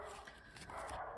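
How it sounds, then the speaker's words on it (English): A pet dog barks somewhere in the house, a few faint, distant yaps in quiet background sound. "I don't know what my dog's barking about, but he is not a happy camper right now"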